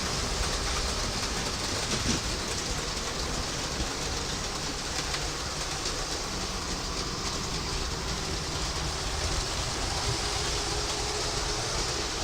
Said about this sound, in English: Is that a diesel shunter? Sounds like it to me.